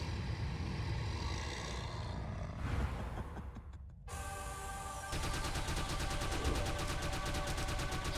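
Gunfire from an SMG in The Mummy Demastered, a retro-style action game, with steady rapid shots running under game music and sound effects at moderate loudness.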